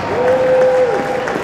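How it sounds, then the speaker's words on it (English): Audience applause at a girls' hockey awards event in Duluth, a steady wash of clapping from a crowd with a faint sustained tone running through the first part. "Let's give them both a nice round of applause."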